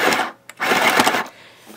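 A Tivax Lil Sew & Sew LSS202 mini sewing machine runs in two close, buzzing bursts of rapid stitching with a short pause between them, then trails off into quiet.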